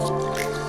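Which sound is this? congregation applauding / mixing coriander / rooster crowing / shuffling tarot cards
mixing coriander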